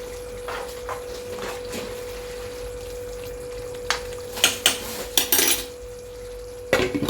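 A metal spoon clinks against a pot as ghee and crushed cardamom go into a hot papaya, squash and potato dalna. A few sharp, close taps and scrapes bunch toward the end over a steady low hum.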